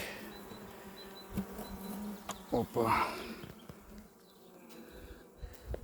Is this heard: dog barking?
no